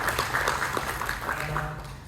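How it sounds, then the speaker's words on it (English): Audience applause for musicians at a panel on Indian classical music, a moderate, steady patter of clapping with voices faintly underneath. "Big applause."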